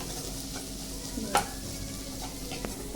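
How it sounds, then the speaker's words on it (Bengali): Peanuts and carrots fry in deep oil for suji upma, giving a soft, even sizzle throughout, broken by one brief clink of a spoon stirring the pan. "বাদামটা ভাজা নিতেছি ডোবা তেলে"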